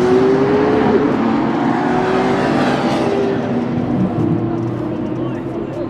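Nissan GTR cars drifting at a car meet, a loud sustained engine roar with revving and tire noise close by, while people talk over it.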